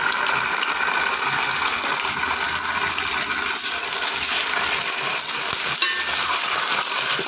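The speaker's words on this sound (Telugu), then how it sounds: "వెల్లుల్లి పచ్చి వాసన పోయేంత వరకు ఫ్రై చేయాలండి." Onions frying in a pan with ginger garlic paste for chicken biryani, a steady close sizzle with occasional stirring scrapes running throughout, no voices.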